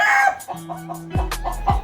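A wounded gamecock clucks several times in short, uneven bursts, close by, with a low hum running underneath.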